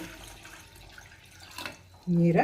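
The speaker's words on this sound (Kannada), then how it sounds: "ಈಗ ಸ್ಟವ್ ಮೇಲೆ ಒಂದು ಪಾತ್ರೆ ಇಟ್ಟಿದ್ದೀನಿ. ಸ್ವಲ್ಪ ನೀರು ಹಾಕ್ತೀನಿ." Water is poured into a pot on a stove while avarekalu upma is being made. After a quiet stretch, a sudden loud, close gush of pouring water fills the final half second.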